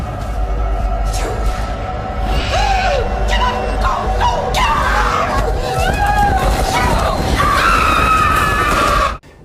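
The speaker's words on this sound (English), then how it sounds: "Because we're just shown a bunch of close-ups of the crow squawking and Mrs. Halter screaming." A crow squawking repeatedly while a woman screams in a film scene, harsh loud cries over a low rumbling score with background crowd-like noise.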